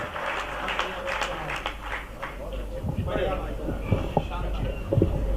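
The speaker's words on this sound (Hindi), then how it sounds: "तालियां बड़ी करिए" Audience applause at a Hindi comedy poetry recital (kavi sammelan), a broad steady wash of clapping from a crowd with a voice talking over it and louder claps near the end.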